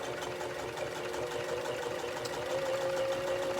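A sewing machine runs steadily, stitching through sticky tape while making a mask laundry bag, a continuous close mechanical whir with a sustained tonal hum and no talking.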